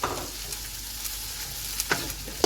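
Peas sizzle steadily in hot oil in a pan for white matar pulao, a soft continuous crackle broken by a few sharp stirring clicks, with no talking.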